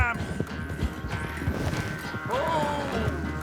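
Horse hooves clip-clop at a steady gait in Red Dead Redemption 2, a tired horse plodding in a swampy game world, heard under a man's speech and ambient game sound throughout.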